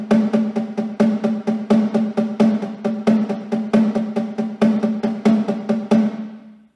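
A snare drum playing a bossa nova pattern with right-right-left-left double strokes, a steady, dense run of crisp hits with varying accents, close and alone, ending in a short ringing decay.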